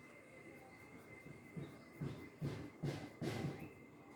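Crayons scrub across paper while drawing, a faint, close, dry rasp in short strokes that grow louder and more regular toward the end.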